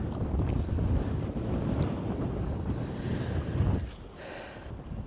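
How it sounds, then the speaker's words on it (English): Strong wind buffets the microphone outdoors on a bright midday fishing trip for walleye, white bass and wipers: a steady, loud low roar that dips briefly near the end, with no talk. "the wind is whipping"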